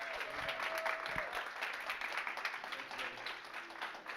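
A school audience applauds student musicians in grades six and seven, a steady, dense wash of clapping that holds for several seconds at moderate distance with faint murmuring underneath.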